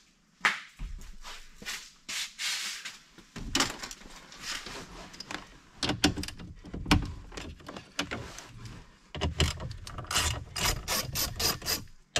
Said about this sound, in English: So now we need a 10 millimeter. Take that metal knee bolster out.